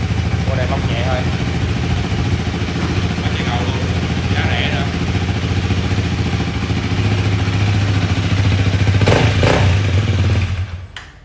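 A 2019 Honda Rebel with an aftermarket exhaust idles close by with a loud, steady, throaty rumble. It swells briefly near the end before the engine cuts off.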